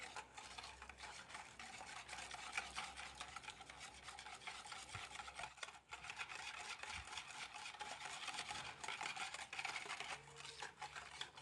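Yeast and lukewarm water being whisked by hand in a bowl, a fast continuous scratchy stirring that runs steadily throughout, quiet and close, with no talking.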